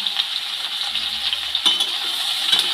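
Potato and ridge gourd fry with turmeric and salt in a pan, giving a steady bright hiss of sizzling oil, with a soft stir or clatter partway through.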